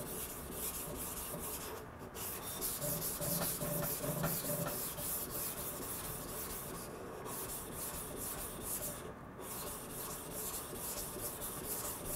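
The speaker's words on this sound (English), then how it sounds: "And this 800 grit King combination does produce pretty good scratch pattern for the blade." A Yoshikane 180mm petty knife of SKD-11 steel is freehand sharpened on an 800 grit King combination whetstone, a continuous close scraping rub of long strokes with brief pauses, fairly quiet and without talking.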